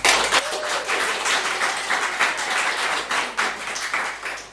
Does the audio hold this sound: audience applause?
yes